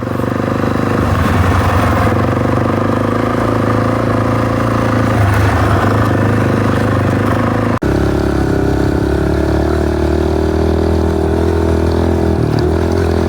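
A Kawasaki KLX110 and a Suzuki DRZ400 trail bike ride along a dirt trail, engines droning loud and close, with steady revving and slight shifts in pitch throughout.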